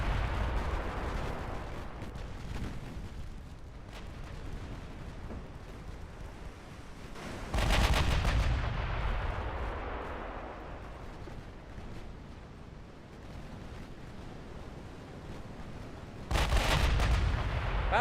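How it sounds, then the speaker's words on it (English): Warship secondary guns in Ultimate Admiral Dreadnoughts fire in two heavy booming volleys several seconds apart, each followed by a long rumbling decay over a low steady background. "Get the secondaries going off at these little guys that are close to us."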